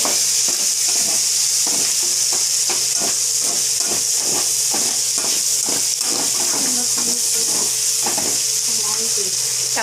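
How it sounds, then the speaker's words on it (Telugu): Chopped onions sizzling in hot oil in a pan as cooking continues, a steady bright hiss broken by repeated stirring scrapes and spatters, close and loud from start to finish. "ఇప్పుడు ఉల్లిపాయలు వేస్తున్నాను."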